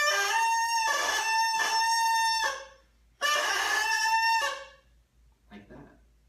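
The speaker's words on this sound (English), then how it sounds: "you should get a double note playing" A bassoon reed played alone makes a crow, a buzzy double note sounding two pitches at once, in three loud blasts separated by short breaks, followed by a faint brief squeak.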